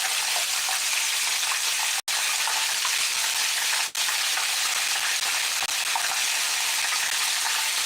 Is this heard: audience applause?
no